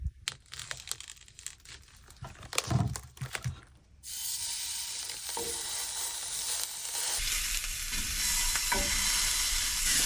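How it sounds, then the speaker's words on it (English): Bread toasting in a dry frying pan on a small van stove, with a quiet scrape early on, then a steady broadband sizzle that takes over from about four seconds and holds at a moderate, close level. "I'm still just gonna be using the pan to toast my bread because it works fine"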